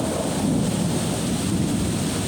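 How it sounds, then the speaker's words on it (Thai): Heavy rain pours down steadily at a municipal area in Thailand, a dense, loud, unbroken roar of falling water with no voices. "ตกมากแล้วฟ้าร้องเลยนะพี่น้อง"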